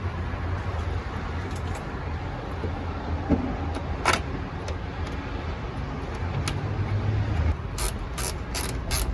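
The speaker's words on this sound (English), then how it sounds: "After that, tighten it with your ratchet." A ratchet clicks in steady, rapid strokes while tightening a bolt on the radiator of a Ford F-250/F-350 Super Duty truck, close and continuous over a constant low background rumble.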